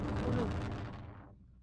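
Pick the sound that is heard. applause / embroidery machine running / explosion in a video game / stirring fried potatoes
explosion in a video game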